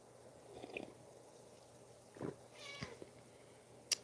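A cat meows a few short times indoors, quiet and near, with soft handling noises between the calls and a faint sharp click at the end.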